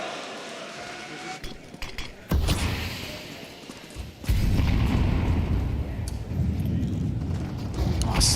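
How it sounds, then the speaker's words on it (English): A grenade blast in the Counter-Strike video game at a professional esports match, a loud broad boom at about 4.3 seconds that rumbles on, after an earlier burst near 2.3 seconds, under steady background game noise. "Oh, second nade to break that open."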